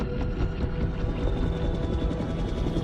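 Movie helicopter lifting a giant ape slung in a huge net on arrival in Antarctica, a steady dense rotor roar with rhythmic blade chop, loud and continuous with no talk.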